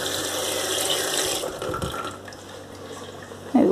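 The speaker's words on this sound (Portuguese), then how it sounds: "Enchendo aqui de água na torneira." Water runs from a kitchen tap into a pot while a Brazilian chicken-and-rice dish is being cooked, giving a steady rushing splash that softens midway, then a brief clunk near the end.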